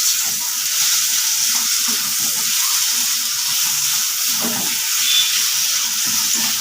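Chopped tomatoes hiss and sizzle steadily in hot oil with frying spices, a continuous bright crackle close by with no one talking.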